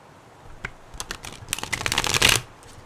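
Tarot cards being shuffled close up: a string of quick papery flicks and riffles that build into a dense, loud burst before stopping abruptly, with no talking.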